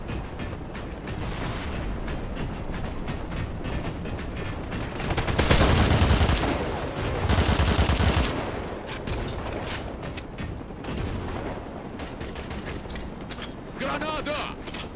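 AK rifle gunfire in CrossfireX multiplayer team deathmatch, bursts of shots and mechanical clatter rising loudly mid-clip among scattered game sounds, with someone talking over parts of it.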